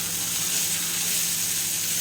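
Small-cut onion sizzling in hot oil in a pan while being stirred, a steady, close, even hiss that holds without pause and with no voices.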